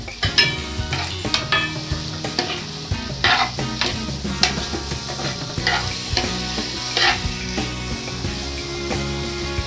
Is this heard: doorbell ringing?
no